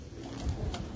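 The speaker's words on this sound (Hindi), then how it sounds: "लाइट वेट कबूतर।" Lightweight pigeon of the teddy breed in a Lahore loft, giving soft low cooing over a rumbling background, brief and fairly close.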